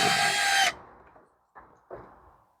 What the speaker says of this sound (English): let's take the screws off the corners